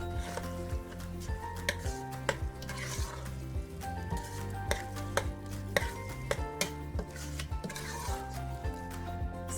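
Ground beef being chopped and broken apart in a cooking pan for taco bean soup, a steady series of close scraping, tapping strikes with a faint sizzle underneath, no talking.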